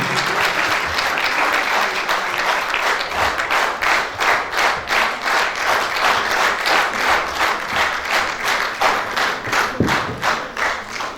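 An audience at a memorial ceremony honoring a fallen army captain claps steadily throughout, a dense, loud wash of applause with a faintly rhythmic pulse and no clear voices.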